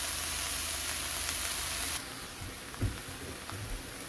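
Chana dal fritter mixture fries in oil with a loud, dense hiss that suddenly softens halfway through into a quieter, crackling sizzle with a few low thuds.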